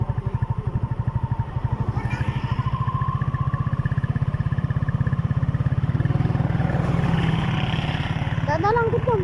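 A 175cc motorcycle engine idles and putters with a steady, rapid thumping beat, close and moderately loud, while faint voices and background noise sit behind it.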